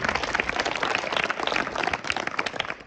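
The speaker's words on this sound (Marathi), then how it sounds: "त्या दोघांचं या ठिकाणी सर्वप्रथम आपण टाळ्या वाजवून स्वागत केलं पाहिजे" Audience at a drawing competition event applauding, a sustained burst of many hands clapping, loud and dense, easing slightly toward the end.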